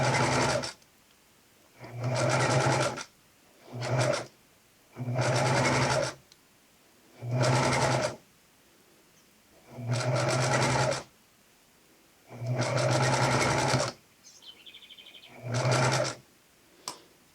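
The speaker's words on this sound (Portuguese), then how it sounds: "E você vai continuar costurando." A domestic sewing machine with a twin needle stitches elastic for lingerie or a bikini in eight or so short whirring bursts of one to two seconds, with brief pauses between them, close and steady.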